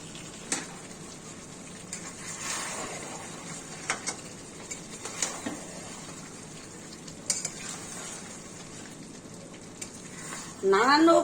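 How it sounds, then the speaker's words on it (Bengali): Garlic paste and black pepper paste frying in a kadai for mutton curry, a soft continuous sizzle with scattered clinks and scrapes of a stirring spoon, ending in a louder burst of sizzling. "এই যে এবার আমি রসুন বাটা আর গোলমরিচ বাটাটা দিয়ে দিচ্ছি।"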